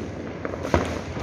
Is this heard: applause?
no